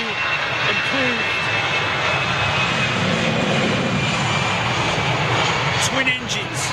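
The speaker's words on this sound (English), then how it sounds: "Now that's a beautiful aeroplane." A four-engine Airbus A340-600 jet at Heathrow Airport gives a loud, steady engine roar that fills the whole stretch, close and continuous, with no talk heard.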